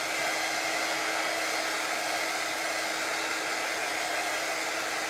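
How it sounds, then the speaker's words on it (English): A heat tool blows steadily to dry Chalk Couture chalk paste on a craft airplane kit, a continuous loud whooshing drone like a hair dryer, close and unbroken throughout. "If you don't have a quick dry tool,"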